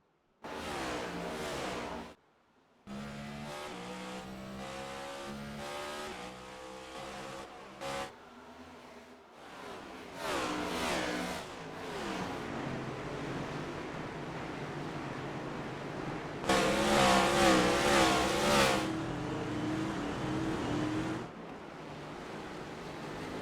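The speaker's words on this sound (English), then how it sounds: "Onboard Ryan Priest as he goes through the hairpin" A video-game NASCAR race car brakes and accelerates through a hairpin on the Long Beach street course, its engine roaring and shifting pitch with brief cuts and a loud surge near the end, heard up close from onboard.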